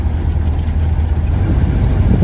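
A 1931 Ford Model A pickup engine idles low and steady, with a deep, even rumble and a slightly uneven beat from a low idle speed, close and continuous with no talk.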